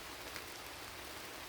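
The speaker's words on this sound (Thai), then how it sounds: "ฝนตกเลยดิวย" Steady rain hisses down in a soft, even patter, with no voices over it.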